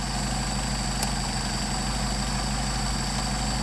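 A Mercedes 190SL engine fitted with Solex 44PHH carburetors idles steadily, a continuous low rumble with a constant hum and a brief faint tick partway through, no voices.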